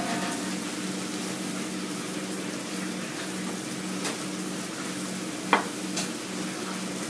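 Food sizzling in a very hot pan, with broccoli cooking before eggs are added for an omelette: steady crackling frying noise throughout, with a couple of brief clinks or stirring taps.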